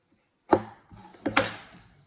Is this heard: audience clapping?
no